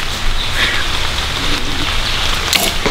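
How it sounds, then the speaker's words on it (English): Steady rain falling outdoors at a backyard 3D archery course, a dense, even hiss that fills the whole moment, with a brief sharper patter near the end and no talk. "It's actually starting to rain."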